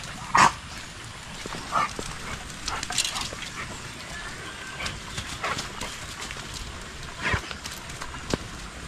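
Several dogs let out on a rural farm to exercise and roam bark in scattered bursts, some sharp and near, others softer and farther off, against a quiet outdoor background.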